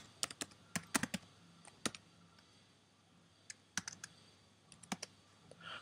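Typing on a Mac computer keyboard, scattered bursts of key clicks with short pauses, close and fairly quiet against a low background hum.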